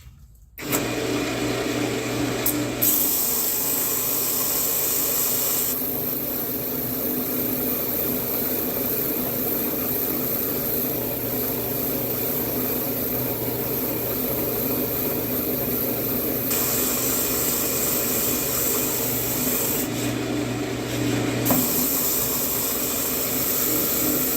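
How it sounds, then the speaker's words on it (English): A cherry wood segmented vessel is sanded flat while spinning on a lathe, giving a loud, steady whirring drone with a motor hum that changes pitch slightly partway through. "let me sand this flat and I'll show you what it looks like"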